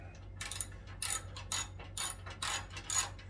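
A ratchet wrench loosens a 12 mm bolt on a Honda VTX 1800 motorcycle, with several short bursts of rapid clicking separated by brief pauses, close and clear over a low steady hum.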